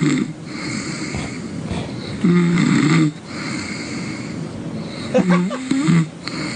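A person snores in a recording played back on a radio show, with a couple of deep, rumbling snorts standing out over ongoing studio chatter and background hum.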